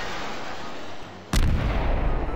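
A HIMARS rocket strike explodes in the Garry's Mod sandbox game: a brief dip in the background rumble, then a sudden loud, close boom that rolls on as a long echoing tail.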